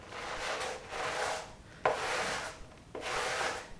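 A wet stiff brush scrubs car carpet in long back-and-forth strokes, three broad rasping passes separated by brief knocks as the brush changes direction, close and fairly loud with no talk.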